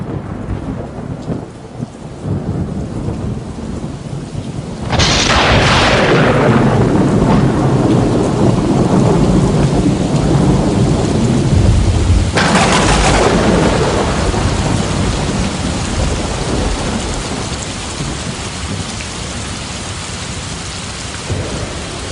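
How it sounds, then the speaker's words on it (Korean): Heavy rain pours down in a thunderstorm, a dense roar throughout, broken by two loud nearby thunder cracks with long rumbling tails, the first about a quarter of the way in and the second near the middle. "하늘에서 천둥 번개와 함께 벼락이 내리치더니 장대비가 쏟아지기 시작했어요"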